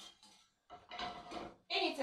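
A frying pan is handled in a home kitchen while castagnole pastries are fried, giving a few short metallic clanks and scrapes in quick bursts with a voice nearby.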